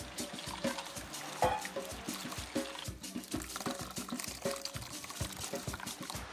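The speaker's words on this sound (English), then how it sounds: "This hot water on the coconut, maybe more." Hot water poured onto grated coconut in a Madagascar kitchen, a steady close splashing pour with small drips and trickles, fairly quiet throughout.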